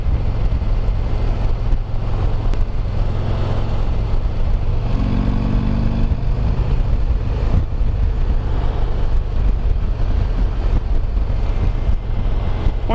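Steady engine rumble from a 2020 Harley-Davidson CVO Limited with a 117 engine, heavy low-end drone and wind noise throughout, ridden at cruising speed.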